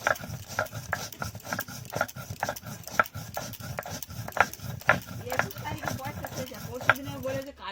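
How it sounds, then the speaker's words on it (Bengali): Whole garam masala spices are ground by hand in steady, rhythmic scraping strokes, close and moderately loud, with some talking in the background. "এবার আমি গোটা গরম মশলাটাকে বেটে নিচ্ছি।"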